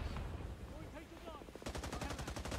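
Gunfire in the video game Rising Storm 2: Vietnam: scattered distant shots and whistling noises give way to a rapid, evenly spaced burst of automatic fire.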